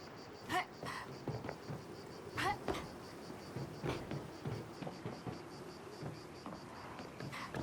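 Crickets chirp in a nighttime scene of the video game Caravan SandWitch, a faint steady high trill running through the background under low ambient noise and occasional brief soft clicks.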